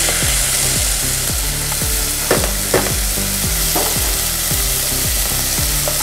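Beef and onions sauté in a pan with a loud, continuous sizzle throughout, and a few sharper stirring scrapes stand out over a steady repeating tonal pattern.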